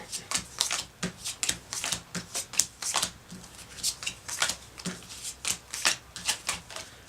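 Cards from the Castilion board game being shuffled together by hand, a steady run of close, crisp riffling and snapping bursts repeating every half second or so with no talking over them.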